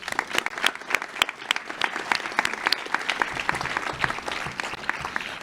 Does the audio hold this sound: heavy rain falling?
no